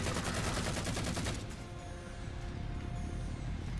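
Rapid gunfire in the Halo 4 video game, a dense burst of fast repeated shots for the first second and a half, then a rougher continuous blasting and rumbling mix, with no talking.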